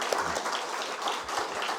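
A church congregation at a Bible conference gives a big round of applause to a visiting professor, many hands clapping in a dense, even roar that holds steady from start to finish.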